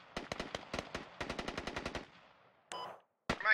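Rapid automatic gunfire in the military shooter game Squad, set in a Peshmerga versus ISIS battle: two quick bursts of loud, close shots in a steady rattling rhythm, then a couple of sharp separate cracks and a final loud impact.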